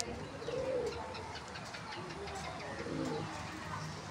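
A pigeon coos a few soft, low notes inside a loft fitted with nesting boxes at about half past five, with faint background noise and no clear speech.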